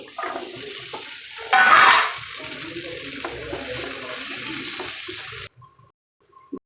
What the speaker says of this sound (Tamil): தக்காளி வெங்காயம் இஞ்சி பூண்டு இதை நல்லா வதக்கிக்கலாம்